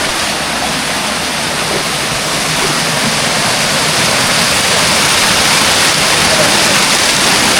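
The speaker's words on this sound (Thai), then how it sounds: "น้ำสองสายเนาะไหลตกที่นี่" Two streams of water pour from a cave and fall in a steady, loud, broadband roar of waterfall, constant and close with no voices.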